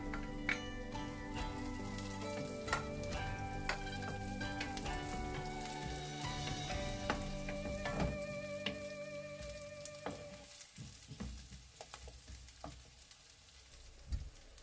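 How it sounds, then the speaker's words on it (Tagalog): Garlic and onion sauté in a pan for a chicken feet dim sum dish, a dense crackling sizzle with scattered ticks and spatula scrapes that thins and quiets partway through. "Gisahin po natin ito hanggang mag-translucent po yung ating sibuyas."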